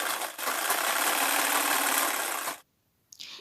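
Sewing machine stitching a patiala salwar, a fast continuous motor whir running for a couple of seconds before stopping abruptly, followed by a brief faint rustle.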